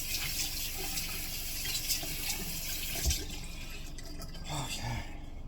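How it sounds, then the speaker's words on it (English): Warm water runs from a tap in a steady, close hiss while a cloth is dampened for makeup removal, with no talking over the flow. "And now I'm taking my cloth, dampening it with warm water."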